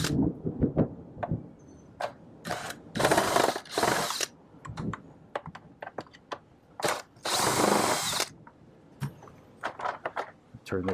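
Power drill backing screws out of a Hayward Navigator pool vacuum, heard as a series of short high whirring bursts of varied length with brief gaps between them, close by and with no talk.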